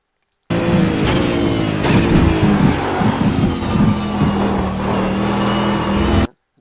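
A race car laps Imola circuit, its engine note loud and close, rising and falling through gear changes and braking before cutting off abruptly.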